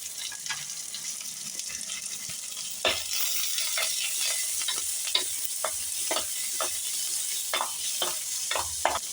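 Crushed garlic, dried chili, pepper and cumin fry in hot oil for rasam, a loud continuous sizzle with repeated scraping stirs of a spoon against the pan close up.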